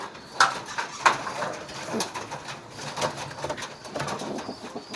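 Young pigeons coo close by in repeated soft, throaty calls, mixed with rustling and a few sharp clicks.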